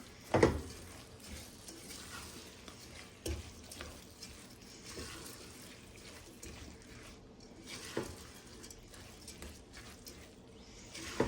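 A cup and a half of rinsed basmati rice being stirred in a pot for gluten-free rice and peas, with soft, quiet scraping and faint sizzling broken by a few light knocks of the spoon.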